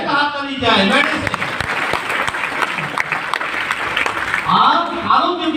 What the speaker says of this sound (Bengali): একটা হাততালি চাই, মেডিসিন।